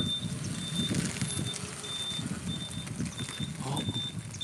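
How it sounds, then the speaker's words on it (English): A car backing into a parking space while a steady series of high reversing beeps repeats at an even pace, over a low engine rumble and road noise. "So he's gonna back his car in."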